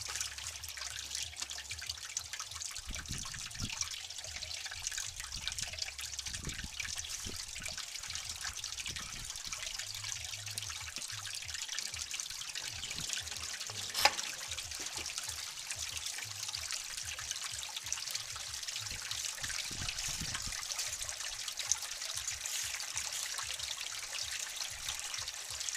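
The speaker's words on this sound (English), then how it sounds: "We got our auto siphon going." Water trickles steadily through a home auto siphon system, a continuous close hiss of running liquid with faint drips that lasts the whole time, with no voices.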